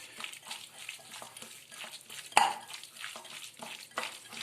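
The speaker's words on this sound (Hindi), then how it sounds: "अब इसको डाल लेने के बाद हमने इसको अच्छे तरीके से हाथों से इसके अंदर मिक्स करना है।" Chicken chow mein ingredients are mixed by hand in a bowl, with soft rhythmic rustling and squishing at a quiet level, broken by one sharp clink of a dish.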